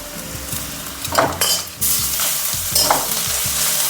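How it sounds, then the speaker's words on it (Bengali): Onions fry in a pan as a ground spice paste goes in, giving a loud continuous sizzle with scraping stirs and a sharp burst of frying when the paste hits the oil. "পেঁয়াজটা ভাজা ভাজা হয়ে গেছে আমি ওর মধ্যে এই মশলা পিষে রাখা মশলাটাকে দিয়ে দেব"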